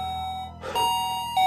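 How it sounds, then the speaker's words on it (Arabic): A house doorbell rings at four in the morning, sounding a clear electronic chime with a sustained tone that shifts partway through and briefly restarts at the end, loud and close with no voices. "مين عم دق الجرس بالواف؟"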